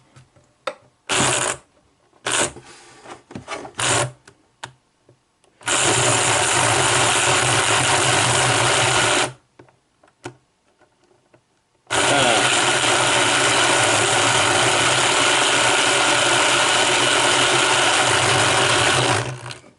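A Mehano Southern Pacific Daylight model locomotive is held off the track with its motor and running gear spinning, giving a loud, steady whirring buzz that starts and stops in long bursts, broken by shorter stuttering runs and silent gaps.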